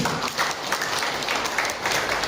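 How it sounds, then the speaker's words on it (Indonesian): Dense, steady applause from a seminar audience on religious moderation, a continuous wash of many hands clapping together at close range for a couple of seconds. "tepuk tangan"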